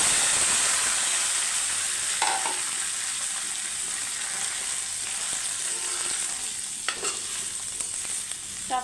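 Rice fries in a pan with a well-toasted spice paste for black rice, sizzling in a steady bright hiss, with a few sharp stirring scrapes, close and alone.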